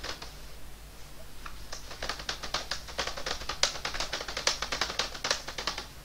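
Someone types on a computer keyboard while working in Microsoft Word 2007, keys tapping in quick uneven bursts close to the microphone, with no talking.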